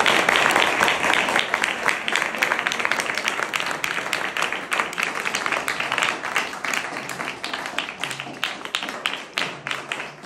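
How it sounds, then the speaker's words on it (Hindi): Sustained applause from a group at a headmaster's gathering in an ashramshala school, dense claps filling the whole stretch at a steady loud level, with a voice faintly present beneath. "अच्छा अनुजा मैम का आप स्कूल के लिए 2000 तालियां"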